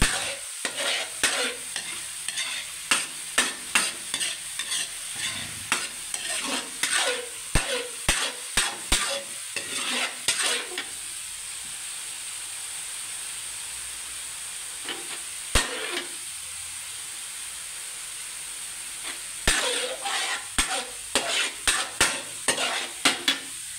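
Coconut milk fries down into latik curds with a constant hiss and sizzle, broken by frequent rhythmic scrapes and knocks of a spatula stirring the pan, loud and close.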